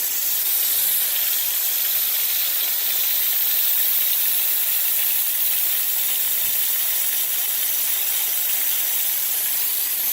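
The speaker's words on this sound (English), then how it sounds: "Now I'm going to get the extractor." Fabric extractor machine pulling ink remover out of upholstery, a loud, steady close-up hiss of suction and spray that runs unbroken throughout with no talking.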